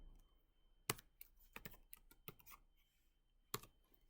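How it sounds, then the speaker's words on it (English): Someone types text into Notepad on a computer keyboard. The keystrokes are quiet and irregular, with a few sharper clacks and short pauses between bursts of typing. "And I'm going to write some text."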